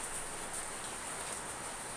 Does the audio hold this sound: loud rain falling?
yes